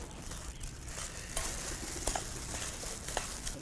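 Marinated pork intestines are tossed and stirred in a bowl before grilling, a continuous wet squelching and scraping with sizzle-like texture, close and steady throughout, with no talking.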